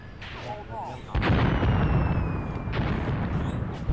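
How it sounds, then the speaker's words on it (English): Heavy Katyusha rocket artillery fire in the Angolan Civil War, a deep, continuous roaring rumble of concentrated barrage swelling in after a moment, with a faint voice early on and whistling streaks overhead. "That is the most concentrated Katyusha fire I have seen."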